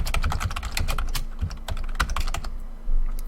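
Close, crisp keystrokes on a computer keyboard come in rapid irregular bursts, then a short pause and a final soft thump.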